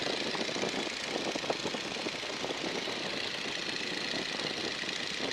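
A World War II trainer airplane engine with the power brought up, a loud, continuous rough drone that holds steady throughout with no talking.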